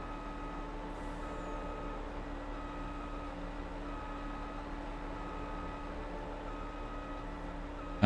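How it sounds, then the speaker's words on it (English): Steady reversing beeps sound from a forage harvester left in reverse gear in Farming Simulator, pulsing evenly over a continuous engine hum, with a brief louder knock at the very end. "They left their forage harvester reversing."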